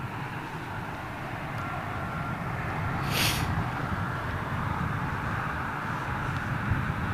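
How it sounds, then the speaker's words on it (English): A United Boeing 767 in new livery at London Heathrow, runway 27L, gives a steady, moderately loud broadband jet roar with a brief hiss in the middle, and nobody speaks. "this is a United 767 in the new livery, folks"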